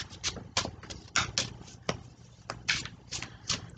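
An Alice in Wonderland tarot deck being shuffled, a continuous run of crisp riffling card flutters in irregular quick bursts, close and clear with no talking.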